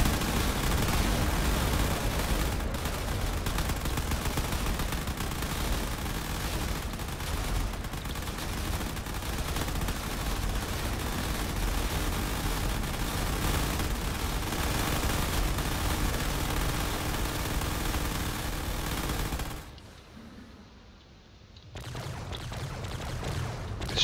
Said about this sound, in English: there's still plenty of fighters going out and about firing all their missiles at this fortress